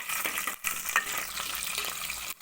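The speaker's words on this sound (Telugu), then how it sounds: "దాంట్లో ఆయిల్ వేసి కరివేపాకు పచ్చిమిర్చి వేయాలి అయితే కొంచెం వేగిన తర్వాత" Oil frying with curry leaves and green chillies for a fish curry, giving a steady close sizzle with brief crackles and a short gap partway through, heard alone without talk.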